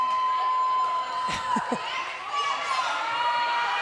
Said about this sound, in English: The crowd is picking up in volume.